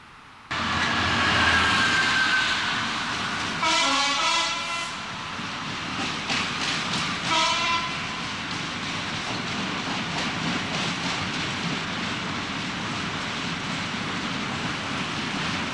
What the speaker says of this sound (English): A multiple unit from Lincoln joins the Midland line at Nunnery.